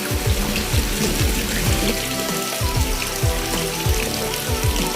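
Steady rush of running water pouring into a concrete fish pond, with a continuous splashing, bubbling texture close by.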